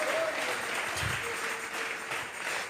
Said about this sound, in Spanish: Fuertes esas palmas al Dios de la gloria.